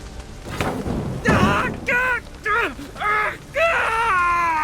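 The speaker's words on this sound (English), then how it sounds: "My ears wither from the screams." Screams and wails in the video game The Witcher 3: Hearts of Stone, with several drawn-out, pitch-bending cries following one another under a rough, noisy background.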